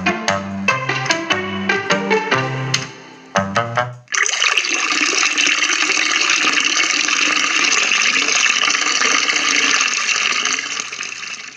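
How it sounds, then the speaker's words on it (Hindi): Water falls from a pipe in a loud, steady, continuous rushing gush that lasts several seconds, following a brief run of plucked musical notes. "पाइप से पानी गिरने की आवाज़"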